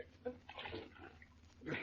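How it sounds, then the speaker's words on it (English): Water is thrown onto an unconscious man in an old-time radio drama sound effect, a quick splash followed by sloshing and dripping with a second burst near the end, close and fairly quiet. "Throw some more water on him, Barney."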